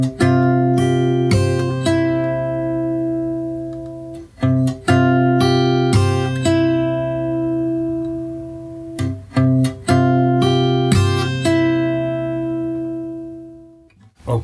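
Acoustic fingerstyle guitar plays a section of a song's chorus, with ringing chords, sharp percussive muted hits and strums in a steady rhythm, close and clear with no talking.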